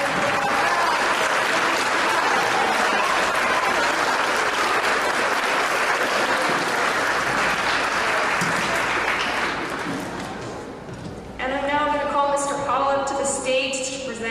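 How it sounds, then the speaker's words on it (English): Crowd at a school athletic awards ceremony applauds the standing cross-country runners, sustained loud clapping for about ten seconds that then tapers off as a voice begins speaking over a sound system. "can I please get all cross-country runners that are here to stand up and give them a big round of applause"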